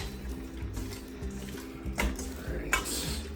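Seasonings being mixed by hand for a chicken and biscuits dish, giving soft, close rustling and stirring textures with low thumps and a couple of sharper clinks, steady and moderately quiet without talk.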